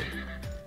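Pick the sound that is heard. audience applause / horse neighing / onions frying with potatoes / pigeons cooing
horse neighing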